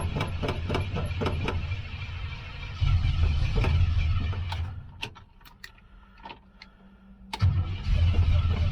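A 1965 Chevrolet Suburban engine cranks in rapid rhythmic bursts, catches and roars briefly, dies back to quiet, then cranks and fires again near the end, loud and close.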